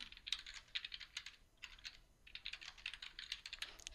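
Rapid typing on a computer keyboard while entering text in SystmOne clinical records software: close, crisp key clicks in quick bursts, with a brief pause in the middle and no voices.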